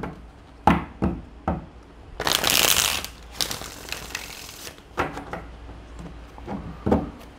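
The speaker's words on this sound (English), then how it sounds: "One shuffle, please, one shuffle." Tarot cards are handled and shuffled. Separate taps and knocks come before a dense riffle burst of about a second, a second riffle follows, and then scattered soft taps and slides continue. The sounds are close, quiet and free of talk.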